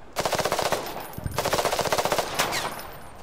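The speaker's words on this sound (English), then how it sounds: "Is that you shooting?" Automatic gunfire from the video game Fog of War rattles in three rapid, loud bursts of evenly spaced shots, each burst lasting about a second with short breaks between.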